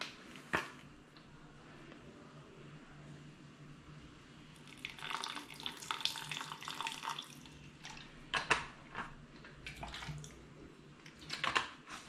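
Water is poured into a thick homemade cat food mixture to thin it, heard as several short splashing, trickling bursts over a quiet room background, with no talk.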